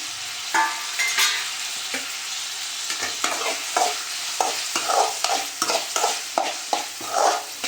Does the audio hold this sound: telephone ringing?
no